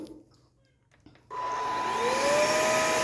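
A COBBO G7 PRO upright vacuum cleaner switches on abruptly and runs loudly and steadily, its motor whine rising in pitch as it spins up, after a few quiet seconds.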